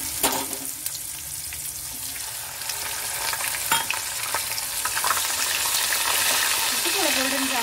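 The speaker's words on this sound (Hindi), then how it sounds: "जीरा हमारा पक चुका है, मैं इसमें प्याज डालूंगी।" Coarsely ground onion paste frying with cumin in a pan produces a loud, bubbling sizzle with stirring clatter and a few sharp spatula knocks, rising and thickening as it goes on. A voice is faintly present beneath.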